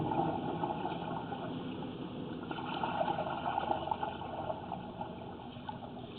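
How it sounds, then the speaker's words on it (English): A toilet flushing on a plumbing service call, a steady rushing and gurgling of water running for several seconds at moderate volume, with no talk. "the toilet was flushing"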